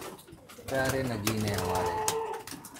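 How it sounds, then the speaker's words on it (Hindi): Fancy pigeons in a loft beside a goat farm coo in low, soft, rolling notes, close by, while someone talks over them. "बकरों के अलावा हम कबूतर भी पालते हैं यहाँ पे."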